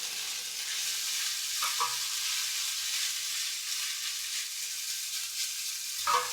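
Vegan ground pork made for tacos sizzles steadily in a hot pan, with a couple of sharp scraping knocks as a utensil stirs and breaks up the crumbles; no talking.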